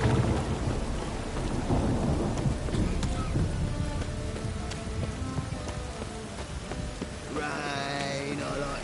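Steady rain pours in the Witcher 3 game world, with low rolling thunder rumbling through the first few seconds and a dense wash of rainfall continuing throughout, joined near the end by a brief chirping or twittering sound.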